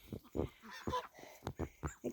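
Ducks in a snowy backyard pen honking and quacking in a quick irregular series of short calls, close and moderately loud with no talk.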